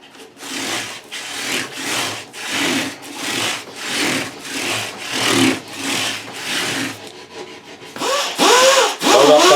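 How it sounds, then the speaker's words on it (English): Metal being hand-polished with emery cloth on a guitar fret workstation, a steady series of rhythmic back-and-forth rubbing strokes, close and fairly loud, about ten even passes with a brief change near the end. "we're going to finish up with this emery cloth and then we'll buff it out"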